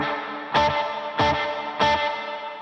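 An electric guitar runs through the hall reverb of a Strymon BlueSky v2 pedal, giving three evenly spaced strummed chords, each followed by a broad, lingering wash of reverb that overlaps the next chord.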